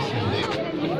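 Dense babble from a large crowd at an evening gathering as the lights come on, many overlapping voices blending into a steady, loud hubbub close around the listener with no single speaker standing out.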